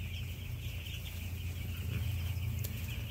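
Chickens clucking softly inside a poultry house on a cool, damp day after rain, a continuous low murmur of many birds with a fan-like hum beneath.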